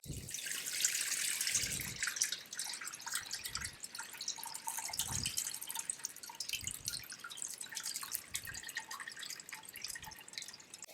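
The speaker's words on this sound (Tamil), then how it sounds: "இதை அப்படியே எடுத்து நம்ம இதில் வடிகட்டிக்கலாம்" Ground wheat batter strained through a filter while making Tirunelveli halwa at home, heard as steady close dripping and trickling liquid with a continuous wet hiss and regular soft drops, no voices.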